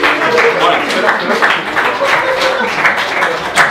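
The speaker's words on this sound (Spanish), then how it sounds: "Damos un aplauso." Group applause from a football team gathered after a magician's act, close, uneven clapping in bursts with voices talking and exclaiming throughout.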